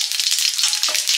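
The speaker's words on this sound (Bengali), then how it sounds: "এবারে ডালে ফোড়ন দেবো, ছোলার ডালে" Spices hit hot oil to temper chana dal for a Satyanarayan puja meal, giving a loud, bright, continuous sizzle close by, with a faint stirring scrape near the end.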